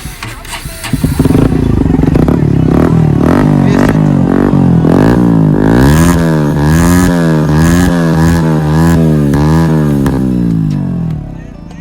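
A Bajaj Pulsar NS125 motorcycle with a full-system aftermarket exhaust rumbles loudly up close, revving repeatedly in rising and falling surges before cutting off near the end.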